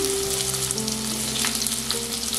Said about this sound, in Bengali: এবার আঁচ কমানো অবস্থাতে এর মধ্যে আমি কেটে রাখা সবজিগুলোকে দিয়ে দিচ্ছি।